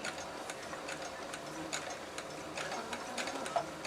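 A home sewing machine runs at a moderate, even pace during quilting, its rapid needle ticks forming a soft, steady mechanical patter close by with faint regular clicks.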